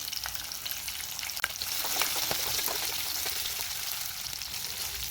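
Curry leaves and thinly sliced onion fry in hot oil for tempering raw mango rice, a close, steady crackling sizzle with occasional stirring scrapes.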